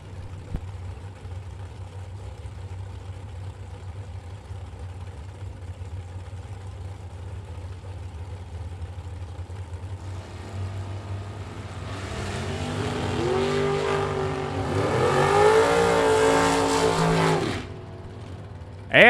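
A Mustang bracket drag car at the Fall Bracket Nationals idles with a low rumble, then builds into a loud, rising engine roar that sweeps upward as it launches before cutting off abruptly.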